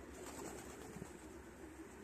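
Pigeons in a loft give soft, faint cooing against a low, steady background hum.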